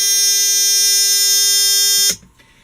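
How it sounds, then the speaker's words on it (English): A loud, steady electronic bilge alarm in a boat's engine room buzzes continuously, then cuts off abruptly, leaving quiet room noise. "Now I've triggered the alarm in the engine room so you can see what it sounds like."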